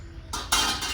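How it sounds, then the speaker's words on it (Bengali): A metal lid clanks onto a cooking pot of potatoes being boiled for a village-style rohu fish curry, with two or three quick close metallic clinks over a faint background. "10 মিনিট ঢাকা দিয়ে রেখে দিই।"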